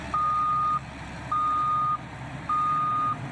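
A military engineering cleaning machine sounds its reversing alarm: three evenly spaced, steady electronic beeps over a low engine hum outdoors.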